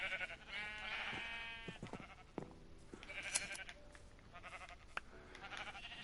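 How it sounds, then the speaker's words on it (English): Sheep bleat on a large sheep farm in the video game Minecraft: several quiet, overlapping bleats repeat throughout over a faint, busy background. "when you get a big sheep farm going like this"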